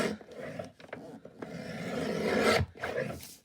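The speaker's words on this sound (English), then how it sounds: "I'm gonna bring in my cutter. I'm gonna trim it up." A paper cutter trimming the edges of a handmade journal cover, heard as close rasping slices and rubbing strokes with brief pauses between cuts.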